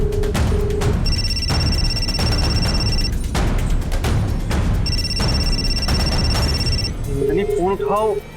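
A telephone rings in two long electronic bursts over a busy, noisy background with voices, then stops.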